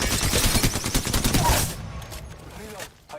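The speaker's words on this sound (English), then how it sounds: "those wingman shots though" Wingman pistol shots fire in a rapid, loud burst from an Apex Legends-style video game battle, dense for about a second and a half, then fall away to quieter game sounds and chimes.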